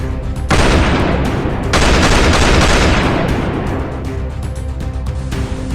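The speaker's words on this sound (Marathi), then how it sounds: "अपेक्स हार्डवेअरच्या कारवर थेट बंदुकीतून गोळीबार" Loud gunfire is aimed at an Apex Hardware car in Solapur during a robbery attempt, harsh bursts of shots crackling close by with brief pauses between them and no talking.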